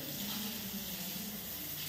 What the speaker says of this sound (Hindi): कितने दूर इसका पानी जा रहा है,